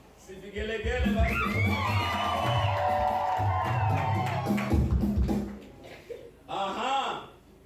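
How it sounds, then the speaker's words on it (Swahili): Wedding guests ululate in a shrill, wavering chorus mixed with cheers and shouts from a crowd, loud and sustained for several seconds before a short final burst. "Si vigelegele basi."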